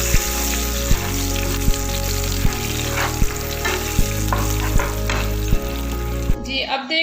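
Kashmiri red chili and curry leaves sizzle in hot oil in a pan, a loud, steady frying hiss with regular knocks of a spoon against the pan, close up, cut off abruptly at the end.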